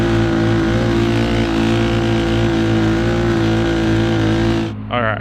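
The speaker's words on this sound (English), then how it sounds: "he's got her maxed out on RPMs" A 4WD Power Wheels Bronco go-kart engine screams at maximum RPM, a loud, sustained, steady drone held close up for several seconds before cutting off abruptly near the end.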